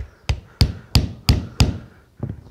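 Hammer striking a screwdriver wedged into a microwave oven transformer, six sharp metallic blows at an even pace, close and loud with ringing decay, the last one lighter.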